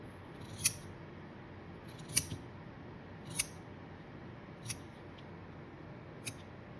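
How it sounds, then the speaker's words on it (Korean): Large scissors cut through a woven coaster in about five crisp snips at a slow, steady rhythm, each a sharp close click of the blades over a faint background hiss, with no talking. "저는 큰 가위로 자르겠습니다."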